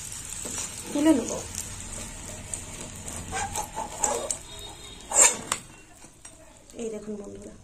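Eggplant slices fry in hot oil for dahi baingan, giving a soft steady sizzle broken by clinks and scrapes of a utensil against the pan, heard close up.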